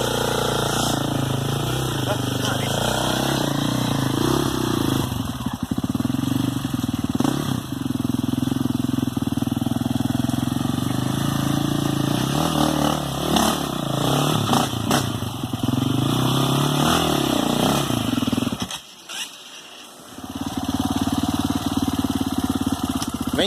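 A Tornado 293 cc motorcycle engine runs steadily on a rough hard-enduro trail, a loud, close, continuous mid-pitched drone with slight revving swells, briefly dropping away near the end before picking back up.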